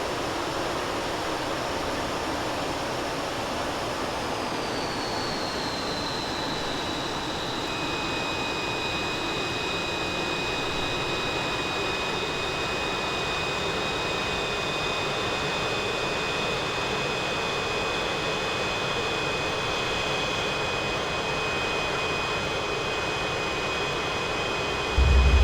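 An F-86 Sabre jet engine in Flight Simulator X roars with a constant, loud rushing noise, and a high whine rises and then holds steady over it throughout.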